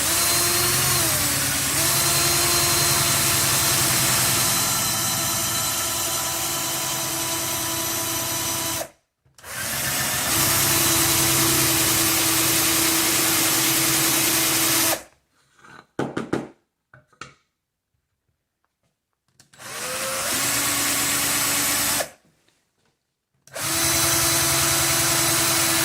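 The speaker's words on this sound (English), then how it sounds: "I got a 3/8 inch bit, and I'm just going to drill through until I get through the whole thing." Power drill fitted with a 3/8 inch bit boring through a wooden disc for a tabletop, a loud sustained whine in long bursts, broken by short pauses and quieter stop-start revving before drilling resumes.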